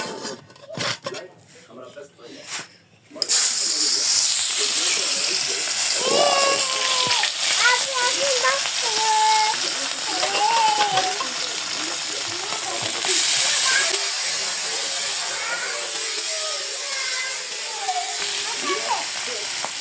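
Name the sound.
hot oil hissing and steaming in pan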